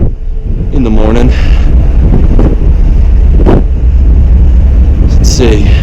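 Strong wind buffets the microphone on the open deck of the Navigator of the Seas cruise ship, a loud, constant roar with a person talking over it.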